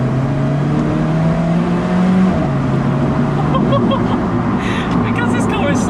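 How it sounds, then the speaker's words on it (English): Driving in an Alfa Romeo 4C, the turbocharged engine and exhaust drone steadily from inside the cabin while a person speaks over it, with faint whooshing turbo noise as the throttle lifts off. "when you lift off, you get a lot of turbo noise, not only from just behind you, but also through the exhaust as well"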